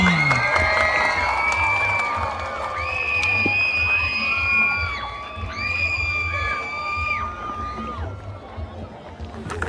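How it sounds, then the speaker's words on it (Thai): A crowd at a student marching band contest in Chiang Rai cheers, whoops and shouts steadily to welcome a school band, with excited children's voices rising over a continuous loud wash of noise. "ขอเสียงปรบมือต้อนรับน้องๆจากโรงเรียนแม่เจดีวิทยาคม"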